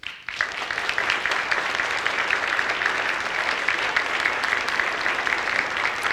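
An audience bursts into sustained applause to welcome a guest at a design talk, a dense, even wash of many hands clapping that holds steady throughout, with no voices over it.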